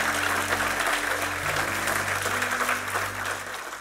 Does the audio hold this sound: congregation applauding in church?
yes